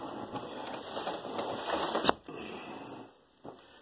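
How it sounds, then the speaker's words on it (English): Continuous rustling and sliding scrape with a sharp clack near the middle, then quieter shuffling as a window is pushed shut. "I'm closing this window."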